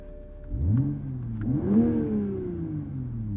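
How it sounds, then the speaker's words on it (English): Toyota Supra Grey Premium 2022 with the B58 engine revving on startup: a close mid-pitched engine swell that climbs, dips and climbs again into a held rev before easing down, with a faint exhaust burble. "A few burbles from the exhaust on startup there."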